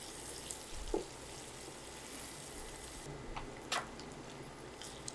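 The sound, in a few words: eggs frying with onions in a pan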